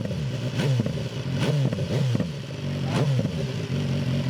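A BMW S1000R four-cylinder motorcycle engine idling and lightly revving nearby, with a smooth, even throb and a few brief rises in pitch.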